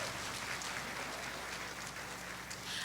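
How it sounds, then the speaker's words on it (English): An audience claps steadily at an outdoor school graduation for pre-K and kindergarten children, a brief burst of dense applause from a crowd of many hands. "give them a round of applause."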